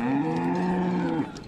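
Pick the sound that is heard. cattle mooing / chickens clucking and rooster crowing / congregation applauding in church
cattle mooing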